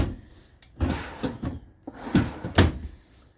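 Large storage drawers in a 2016 Forest River Surveyor 291BHSS bunkhouse RV slide open and shut, giving several soft thuds and rattling knocks close by in a quiet interior.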